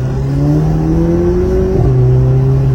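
A car engine hums steadily and climbs in pitch as it accelerates, with a brief dip near the end, loud and close with no talking.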